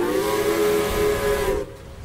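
A steam locomotive whistle from Hero, a Thomas & Friends engine, blows one loud sustained blast with a hissing edge for about a second and a half, then cuts off abruptly.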